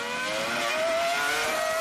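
Formula 1 cars in a 2004 race scream past as Montoya overtakes, a steady, loud, high-pitched engine wail that rises slightly in pitch, with no voices.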